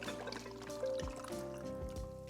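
Water pours into a film developing tank to stop and wash large format 4x5 sheet film, a steady liquid rush with trickling and dripping, moderately close and continuous.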